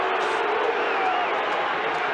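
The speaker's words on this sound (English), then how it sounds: "the crowd giving Kevin Roberts the round of the kitchen, but I don't know why." A rugby league crowd jeers a player after a penalty in a 1986 Parramatta versus Manly match, a dense, steady roar of many voices that stays loud and unbroken throughout.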